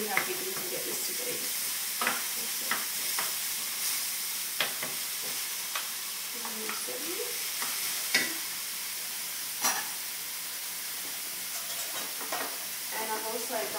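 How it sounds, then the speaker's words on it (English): Mince frying with carrots in a pan, a steady close sizzle broken by repeated scrapes and knocks of a utensil stirring, with brief bits of a voice in between. "Now I'm going to add the mince into the carrots."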